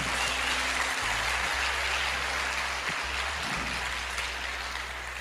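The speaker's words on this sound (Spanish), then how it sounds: "Demos un aplauso al Señor porque tenemos evangelistas." A church congregation applauding, a dense steady roar of clapping, with a low hum beneath that cuts out briefly a few times.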